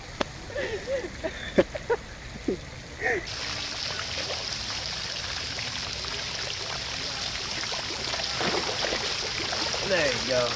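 Water sloshes and splashes steadily as a freshly caught hatchery trout is rinsed at the edge of Lake Tahoe, a continuous close wash that follows a few brief knocks and faint voices.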